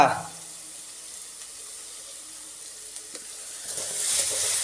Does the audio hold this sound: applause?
no